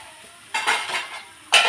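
A lid goes onto a pot of chicken simmering in a little water, with a metallic clank, a brief rattling settle, then a second sharp clank close by.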